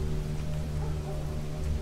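Steady rain falls outside a window as a continuous, even hiss with a low rumbling undertone, moderately loud and unbroken throughout, with no voices.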